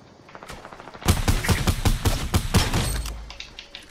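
Rapid bursts of gunfire in the battle royale video game Fortnite, a loud, sharp volley of about a dozen shots in quick succession that begins abruptly and then trails off into a lower rumble.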